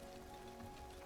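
Soft, steady rain patters in a video game, a faint, even wash of drops with no distinct hits and no voices.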